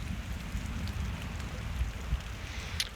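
Steady rain falls over a wilderness campsite in Algonquin, a dense even patter on surfaces close around with a low rushing wash beneath, no voices.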